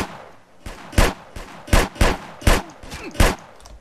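Desert Eagle pistol in the game SA:MP firing about six loud, evenly spaced shots, each a sharp close crack with a short tail.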